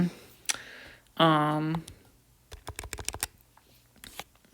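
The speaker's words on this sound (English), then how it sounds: "let's go ahead and use our calculators to estimate these values" Buttons on a calculator are pressed in a quick irregular series of crisp clicks and taps, close by, after a brief spoken phrase.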